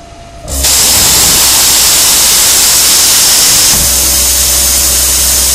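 A Hobart AirForce 250Ci plasma cutter cutting steel gives a loud, steady hissing roar with a low hum. It starts abruptly after a quiet half-second and runs to the end, shifting slightly partway through.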